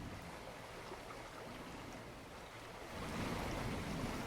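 Steady rushing water, like a river flowing, soft and continuous, growing a little louder toward the end.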